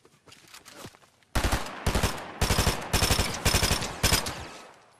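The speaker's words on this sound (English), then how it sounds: "Someone's shooting at me." Rapid automatic gunfire in the Fortnite video game, loud and close, arriving in repeated bursts after a quieter opening with faint background sounds.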